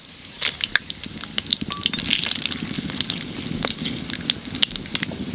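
Cumin, bay leaf, cloves, cinnamon and cardamom frying in hot oil, a close, busy sizzle full of sharp crackles and pops, heard alone.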